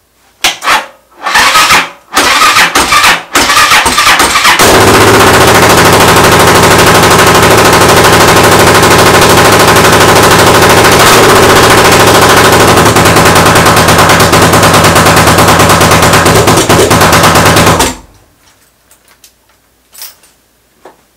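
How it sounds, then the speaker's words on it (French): A Suzuki DR 650 motorcycle with no exhaust silencer cranks in a few sputtering bursts, then fires up and runs very loud and close with a harsh, rapid popping idle before shutting off. "Elle démarre! Putain, sans échappement, je t'avoue, je m'attendais pas à ça."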